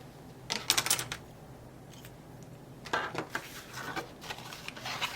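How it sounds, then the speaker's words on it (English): Scissors snip through card paper in two bursts of quick, crisp cuts close by, separated by a short pause, with no talking. "And you can just use your scissors to cut it."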